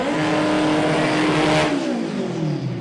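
A front-wheel drive Honda Civic drag car accelerates hard down the strip at Santa Pod Raceway, its engine note climbing steadily in pitch, loud and close, then shifting lower as it pulls away.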